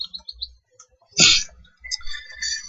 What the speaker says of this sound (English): give it to those birds, those Amazon cuckoos